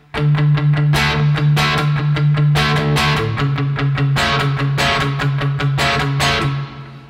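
Electric guitar played through a Tech21 Fly Rig 5 SansAmp with the reverb turned all the way up, loud strummed chords ringing over a sustained low note, with a long wash of reverb tail fading at the end.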